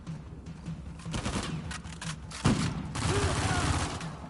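Rapid bursts of machine gun fire in the video game Uncharted 4: A Thief's End, with one sharp, loud shot near the middle and steady battle noise around it. Someone talks over the shooting.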